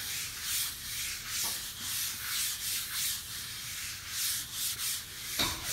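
A sponge scrubbing scratches on a vinyl tile floor, rhythmic close back-and-forth rubbing strokes repeating steadily, with no talking.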